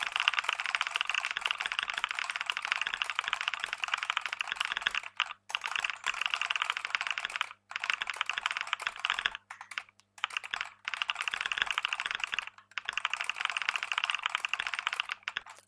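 Fingers typing on a computer keyboard, a fast, steady clatter of key presses with a few brief pauses, close and alone.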